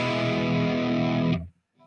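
Distorted electric guitar played through the NUX MG-400 multi-effects unit on its morning drive preset, a loud sustained chord ringing out for over a second before cutting off abruptly, with no reverb added.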